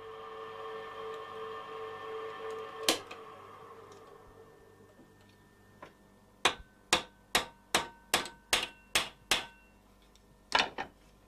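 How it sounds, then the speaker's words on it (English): Sharp metallic hammer taps riveting parts of a model locomotive, one isolated strike then a run of about eight evenly spaced blows and a final pair, close and clear over a faint background hum. "This often means hundreds and sometimes thousands of holes drilled and riveted before the work is complete."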